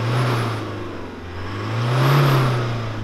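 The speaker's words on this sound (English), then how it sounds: "Nick, let's hear your four-cylinder diesel." Four-cylinder diesel pickup engine, from a Ford Ranger Raptor, Toyota Hilux or VW Amarok comparison, revs twice, rising and falling in two close swells over a steady idle with a faint whine, and no voices.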